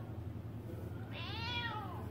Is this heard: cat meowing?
yes